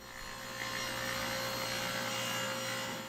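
A table saw rips a wooden board along the fence, a continuous loud whining cut with steady blade hum and no pauses.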